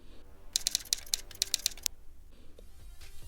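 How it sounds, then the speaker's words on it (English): A burst of rapid typewriter key clacks, about a dozen crisp strikes in quick succession, then quiet, used as a typewriter sound effect in the InShot app on a phone. "I want to explain how you can create typewriter effect on your phone using Inshot."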